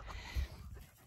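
A dog pants softly in short quick breaths, faint and close, with a low thump near the start and quiet background noise throughout.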